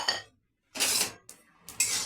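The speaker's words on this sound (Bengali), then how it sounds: "ভালো করে কড়াইতে নাড়তে হবে যাতে পুড়ে না যায়।" Spices being stirred and fried in a kadai for mango pickle, giving scraping, clinking metal-on-pan bursts in three short bouts separated by brief pauses, fairly close.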